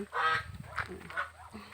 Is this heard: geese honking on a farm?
yes